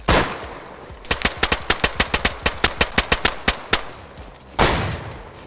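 In the video game DayZ, one loud gunshot is followed by a rapid burst of about fifteen evenly spaced shots, then a pause and a final blast, all close and sharp.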